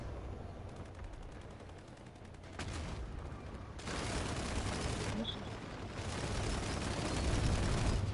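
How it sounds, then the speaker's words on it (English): Sustained automatic gunfire rattles on and on as a player shoots at an anti-aircraft turret in Planetside 2, with dense battle noise and a few heavier bursts building louder toward the end. "I'm gonna shoot this AA thing that we're shooting."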